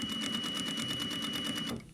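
A sewing machine back-tacks a seam on a jacket front, its needle running in a steady rapid rhythm of close, even stitches for nearly two seconds before stopping.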